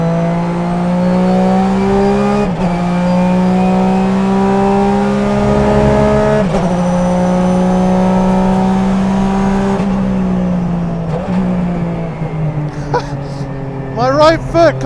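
Porsche 996 GT3 RSR race car engine droning steadily at high revs, pitch easing down in steps as it shifts, with quick rev blips on downshifts near the end; loud and close, heard from inside the car.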